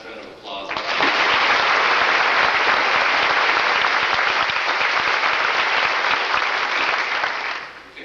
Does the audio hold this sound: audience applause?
yes